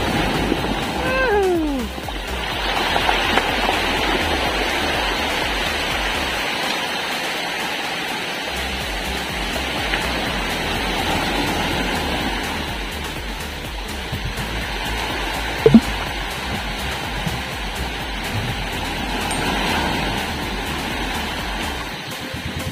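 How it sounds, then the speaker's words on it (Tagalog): Ocean waves wash steadily onto an island shore, a continuous broad surf roar close by with a brief sharp knock near the middle. "Ayan ang alon."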